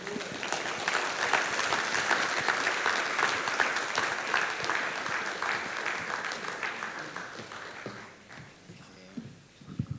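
Sustained audience applause at a macroeconomic outlook conference fills the hall loudly for about eight seconds, then thins out and fades to a few scattered claps.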